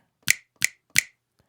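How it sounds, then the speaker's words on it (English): Three crisp finger snaps layered into a guitar music track, evenly spaced about a third of a second apart, dry and close, followed by a faint fourth tick. "I forgot I added claps or snaps, finger snaps in this actual guitar track"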